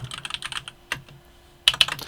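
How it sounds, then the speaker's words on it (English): Bursts of typing on a computer keyboard, rapid key clatter in two clusters with a single stroke between, close and fairly clear with no talking. "My typing is getting worse."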